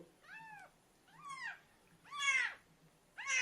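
Four separate meows from a small cat, high-pitched and fairly close, each rising then falling, with short pauses between and the last ones louder.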